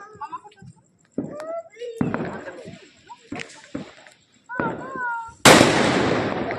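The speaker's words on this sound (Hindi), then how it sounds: "ये लोग पटाखा छोड़ दे रहे हैं ना उसी से।" Diwali firecrackers pop and burst in sharp, loud bangs, the last one ending in a long crackling hiss, while children and adults chatter and call out between them.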